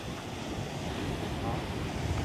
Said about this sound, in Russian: Волны и шум моря завораживают.